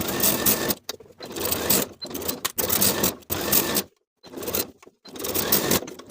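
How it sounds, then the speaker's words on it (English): A sewing machine stitches a cuff onto a turtleneck sweater sleeve, running in fast whirring bursts of about a second each, separated by short pauses, close and clear. "Now I'll sew the cuff in place all the way around with a 3/8 inch seam allowance"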